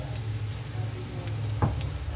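Ginger and garlic sautéing in a hot pan, a steady close sizzle of frying with a brief stir or clatter partway through; no talking.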